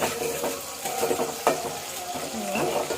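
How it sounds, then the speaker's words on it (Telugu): Green chillies frying in ghee in a pan for chutney, a steady close sizzle with intermittent stirring scrapes and small clinks throughout. "పచ్చిమిరకాయలు చూసారా వేగుతున్నాయి కదా"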